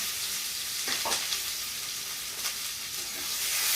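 Sliced onion, green chilli and fried fish sizzle in a pan with cumin, a dense close hiss with a couple of soft utensil scrapes near the middle, no talk over it.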